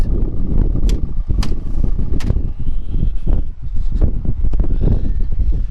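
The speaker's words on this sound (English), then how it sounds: "It's very windy." Strong gusts of wind buffet the microphone outside a 2019 DAF XF 480 truck, a loud, constant rumbling roar with bursts of rustling and flapping, no voices.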